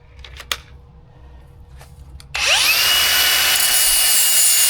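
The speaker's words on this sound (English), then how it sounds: "I can use the flap disc to do that." Angle grinder fitted with a flap disc polishing metal: a loud, steady high-pitched whine that starts abruptly after a few faint clicks and quiet handling, then runs continuously to the end.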